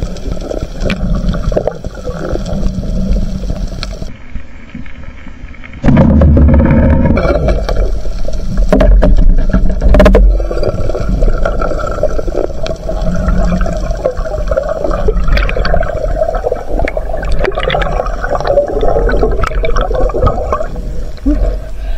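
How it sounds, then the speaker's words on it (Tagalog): A strong sea current rushes loudly and continuously underwater during night spearfishing, a dense churning wash with bubbling bursts and no talking. "Lakas talaga ng agos."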